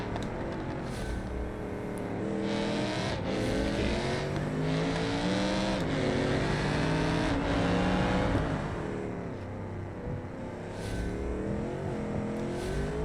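A powerful car in BeamNG revs hard with all four wheels spinning at about 120 miles an hour, its engine note a loud sustained roar that rises and falls across the whole stretch, close and continuous.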